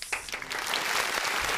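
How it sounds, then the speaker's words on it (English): An audience gives a round of applause after a host welcomes a guest on a podcast stage, dense clapping that swells quickly and stays steady and fairly loud for the whole moment with no talk over it. "Oh, wow, I get the round of applause."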